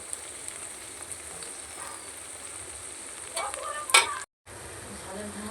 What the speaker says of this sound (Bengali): তো দেখো ফুলগুলো ভাজা হয়ে গেছে ভালো করে একদম